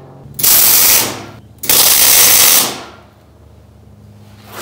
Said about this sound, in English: all I'm gonna do is tack weld these on